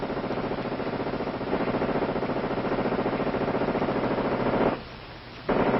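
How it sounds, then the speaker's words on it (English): A Gatling gun fires in a rapid, sustained mechanical rattle of rounds, loud and dense, with a brief pause near the end before firing resumes. "The Gatling gun, invented by a doctor of medicine, James Gatling, gave the American troops superior firepower."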